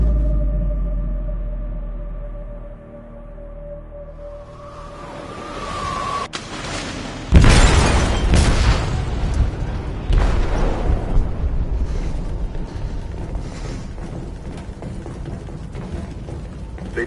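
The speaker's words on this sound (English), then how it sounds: "They detonated an explosive in the hold" An explosive detonating in a ship's hold in the game Detroit: Become Human, a deep boom erupting after a low tonal drone, followed by sustained rumbling, creaking metal and rushing noise as the vessel groans.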